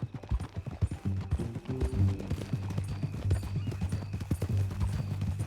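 Horse hooves clip-clop at a walking pace in Red Dead Redemption II, a close, steady rhythmic clatter with a brief whinny, low tones and ambient game sound beneath.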